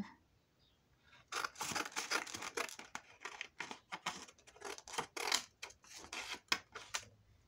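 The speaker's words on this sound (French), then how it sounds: "Et pareil, je coupe." Scissors cutting paper for a mini album craft, a run of crisp, close snips in an irregular rhythm, starting after a short quiet pause.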